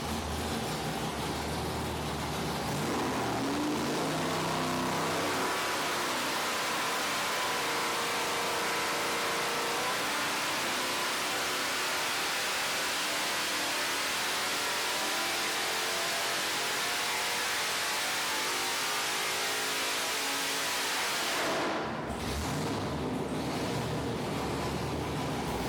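Supercharged 496 big-block engine with a 6/71 blower runs loud and continuous under heavy load, a dense sustained roar with shifting pitch that cuts off abruptly near the end.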